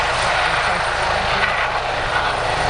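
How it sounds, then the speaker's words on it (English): A Juno helicopter at an airshow makes a loud, steady rotor and engine roar with a broad rushing wash and a low throbbing pulse, continuous throughout. "The Juno helicopter gets ready for space."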